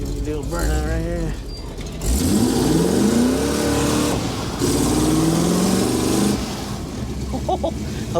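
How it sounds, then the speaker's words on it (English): A 1970 Chevy Blazer truck engine roars and revs hard, climbing in pitch, with a loud sustained burst of tire burnout wheel spin; a voice speaks briefly at the start. "Let's see if we can do a burnout right here."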